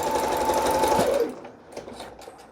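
A sewing machine runs a zigzag stitch in a fast steady whir for over a second, then stops, leaving faint light clicks.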